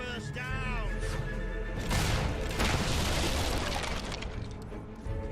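A mortar blast in the Fable 3 video game: a loud, broad explosive boom about two seconds in, within busy battle noise that includes a whinny-like cry before it and crashing debris after it.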